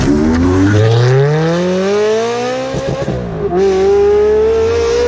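A Ferrari 360 Challenge Stradale engine climbs steadily in pitch as the car accelerates while driving, dips around a shift, then pulls again, loud and close with no talk.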